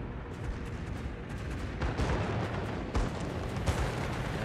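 Anti-aircraft flak from a Tier 3 UK cruiser in a naval game firing at a torpedo biplane: a rapid barrage of booming bursts rolls continuously, with sharper cracks punching through around the middle and later.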